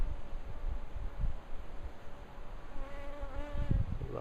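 Honeybees buzzing at a beehive, a dense hum of many wings close by with a few individual bees droning louder as they pass near.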